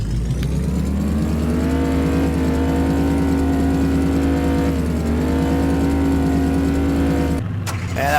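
A car engine revs steadily in Farming Simulator, loud and continuous with a smooth rising and falling pitch, then cuts off abruptly near the end.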